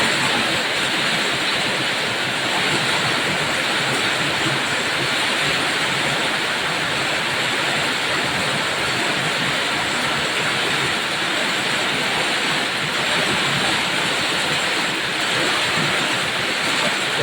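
Heavy rain pours down as a loud, constant roar of hiss that stays dense and even throughout, with no breaks and no voices.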